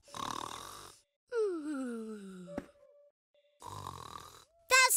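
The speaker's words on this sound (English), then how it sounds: "That sounds like snoring." Loud cartoon snoring from a lion in a children's animated show comes in long rumbling breaths with a descending whistling tone, separated by short silences.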